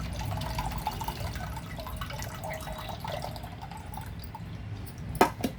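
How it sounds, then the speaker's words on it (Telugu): Tamarind pulp is squeezed and strained by hand for sambar, giving wet squelching and dripping liquid that runs close and fairly loud, ending in a few sharper splashes. "మనకి ఈ రకంగా చింతపండు అంతా ఇలా వడకొట్టుకుని"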